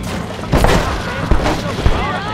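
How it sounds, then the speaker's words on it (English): Gunfire while shooting at people in the video game Red Dead Redemption on Xbox, during the assault on Fort Mercer: a few loud booming shots spaced apart, close and punchy. "Actually shooting at people now."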